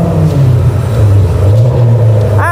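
A Range Rover SVR tuned to 629 brake horsepower revs through its QuickSilver exhaust, producing a deep, loud, continuous rumble with rising and falling engine tones, heard up close without talk.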